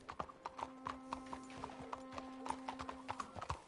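Horse hooves clip-clop in Red Dead Redemption 2 in a steady, unhurried walking rhythm, moderately close, with a faint sustained tone in the background.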